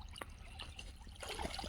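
Irrigation water trickles across a nearby farm field, a faint, soft, continuous running-water sound that swells slightly toward the end, with no voices.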